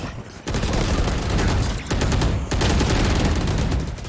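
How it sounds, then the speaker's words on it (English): Loud, close bursts of rapid automatic gunfire in a Valorant match, a dense rattling stream of shots broken by two short pauses, with no voice heard. "Oh, Stevo missing off shots."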